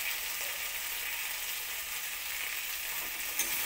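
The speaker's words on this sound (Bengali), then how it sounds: "লঙ্কার আচারটা দিয়ে আবারও একসঙ্গে কষিয়ে নেব।" Pumpkin and potato sautéing with chili pickle in a hot pan give off a steady, close sizzle and hiss that runs evenly throughout, with no voices.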